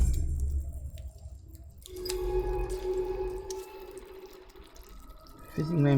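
A fizzing membrane of oxygenated water in the underwater game In Other Waters hisses and bubbles softly, with faint watery trickles and a low hum, rising in brightness midway and ending with a thicker burst.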